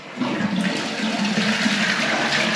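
Water rushes steadily through a newly fitted mixer shower valve during a bathroom remodel, a loud, close, continuous hiss and gush with no talking.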